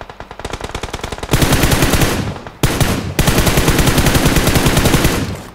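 Long, loud machine-gun bursts from a teammate's rifle in a shooter game, rapid evenly spaced shots running for over a second, then sustained, with a brief gap before another extended volley, close and dominant, with no voices.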